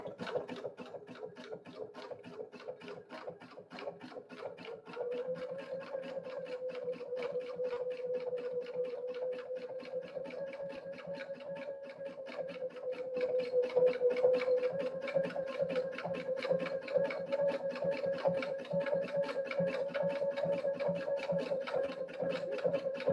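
A sewing machine runs steadily through a satin stitch applique, a fast, even mechanical chatter of needle strokes holding for over twenty seconds, growing slightly louder partway through, with no talking.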